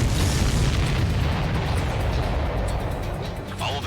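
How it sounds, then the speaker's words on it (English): Missile impacts in the combat flight game Ace Combat 7 produce a heavy, sustained rumbling boom that fills the whole stretch, loud and dense, with faint voice chatter running underneath. "Strider 1, missile launched. Missile hit."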